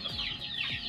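Gamecock chickens clucking up close in a short burst of several quick, sharp calls, with no voices.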